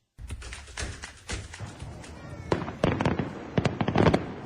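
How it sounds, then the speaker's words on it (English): Aerial fireworks burst over an Idaho Fourth of July celebration in a rapid string of sharp booms and crackles, growing denser and louder toward the end with no talking. "Fireworks lighting up the sky every 4th of July"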